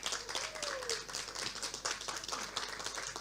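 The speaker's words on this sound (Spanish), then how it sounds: "con un tremendo aplauso" Audience applause welcoming a poet at a book presentation, steady dense clapping filling the whole stretch at moderate level, with a brief voice-like tone near the start.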